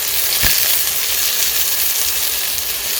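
Mirepoix of carrot, onion, celery, corn and leek greens hits a hot pan with a brief clack, then a continuous, even hiss and sizzle holds steady at moderate volume.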